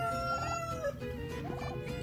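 Farmyard turkeys calling, with repeated warbling, gobbling-like cries rising twice over a dense, continuous background of fowl chatter, fairly close and steady.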